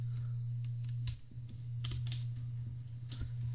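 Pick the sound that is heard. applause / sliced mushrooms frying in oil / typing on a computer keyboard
typing on a computer keyboard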